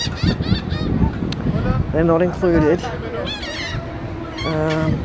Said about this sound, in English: Oh, goodness. Birds.